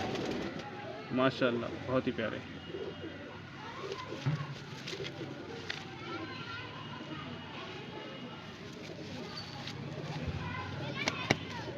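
Pigeons of a prized breed from a Bareilly master, gifted in a batch of ten or eleven, coo softly in close range beneath frequent nearby talk from a man admiring the birds, with occasional rustles and clatter.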